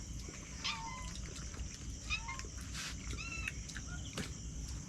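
A cat meows several times in short rising cries against a steady outdoor ambience with faint insect and bird noise, the calls clear but not close.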